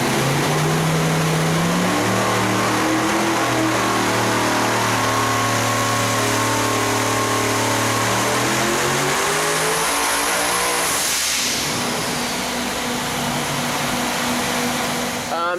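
A high-boost car engine on a dyno pull at 20 psi roars loud and close, its pitch sweeping steadily upward under sustained full load before cutting off, followed by a hissing release and lower engine drone.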